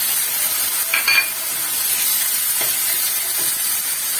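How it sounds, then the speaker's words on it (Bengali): Tomato and spice masala fries in a wok with a steady, bright hissing sizzle, joined by a few soft stirring scrapes. "এবার আমি মশলাটা খানিকক্ষণ কষিয়ে নেবো, তেল না বার হওয়া পর্যন্ত কষিয়ে নেব"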